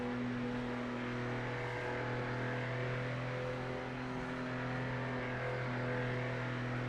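A race car engine accelerating in the PMR racing video game, a steady droning tone held at nearly constant pitch with little rise, fairly quiet and continuous.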